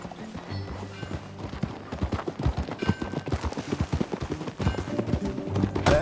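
Rapid clip-clop of horse hooves in the video game Red Dead Redemption 2 over a steady music bed, with occasional sharp percussive hits, fairly close and continuous.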